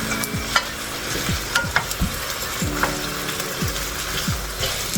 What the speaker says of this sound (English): now you're gonna add some onion powder and let's stir it